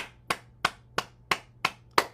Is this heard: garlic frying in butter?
no